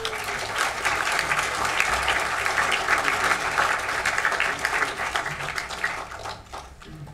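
Audience applause at an award ceremony for student scholarships, steady sustained clapping from a hall full of people that tapers off at the end.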